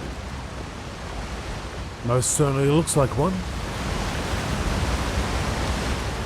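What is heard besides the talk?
waterfall in Elder Scrolls Online video game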